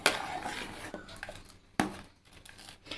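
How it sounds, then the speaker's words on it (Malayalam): A spoon stirs a thick koorka erissery curry of coconut and lentils in a pot, making soft scraping clinks and a couple of sharper knocks against the pot, close and quiet. "ഇളക്കി കൊടുക്കണം, അല്ലെങ്കിൽ അടിക്ക് പിടിക്കും."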